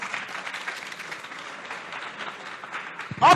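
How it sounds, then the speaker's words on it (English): Audience applause for the Queen's College team at an inter-school debate competition, a steady moderate spread of clapping that swells briefly louder at the very end. "Round of applause for them once again."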